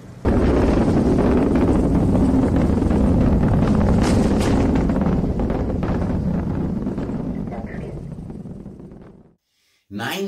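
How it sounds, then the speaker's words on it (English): A SpaceX Falcon 9 launches a NASA probe from Vandenberg Space Force Base in California, its nine engines making a loud, continuous rumbling roar that holds steady for several seconds, then fades away. "Nine engines of SpaceX Falcon 9 rode into life Tuesday, launching a NASA probe"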